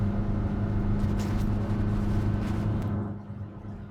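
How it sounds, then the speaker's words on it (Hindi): Steady, loud engine drone of a BS6 diesel car held at high RPM, heard from inside the cabin, a continuous low rumble with a constant hum that eases slightly near the end. "ये देखिए, इस तरीके से आपको गाड़ी की आवाज़ आएगी, जो कि एक हाई आरपीएम पर आती ही है।"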